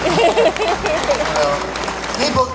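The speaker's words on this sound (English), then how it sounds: "Give him a round of applause." Audience clapping and cheering at a comic convention Q&A panel, a busy crowd sound with voices and babble mixed in over the applause.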